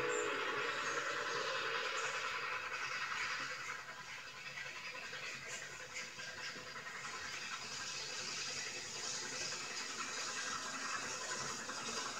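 A Durango and Silverton narrow gauge train rumbles past in a steady, rolling clatter that stays continuous and moderately loud, with no talking.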